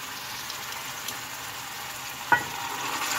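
Garlic and ginger stirred into softened frying onions for muthi karahi kabab, a soft steady sizzle with a single sharp scrape of the spoon, close and without talk.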